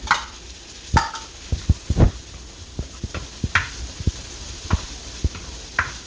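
Garlic and onion frying in melted butter in a pan, with a soft sizzle under repeated sharp clicks and knocks of a utensil stirring and scraping at an uneven pace.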